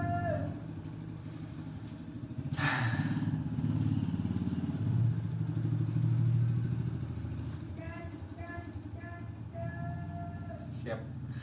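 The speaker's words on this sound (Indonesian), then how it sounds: "Ada motor lagi, bentar ya guys ya." A motorcycle passes by outdoors, its engine drone swelling to a peak at mid-clip and then fading away, with scattered speech from people nearby.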